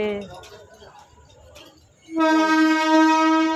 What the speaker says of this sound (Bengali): দেখো ট্রেন চলে যাচ্ছে।